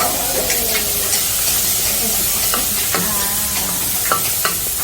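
Shrimp and garlic frying in a pan during a Thai cooking class in Bangkok, with a loud, constant hiss of hot oil and repeated sharp scrapes and clinks from a stirring utensil, close by.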